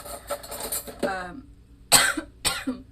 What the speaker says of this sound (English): I'm really sorry for coughing, by the way.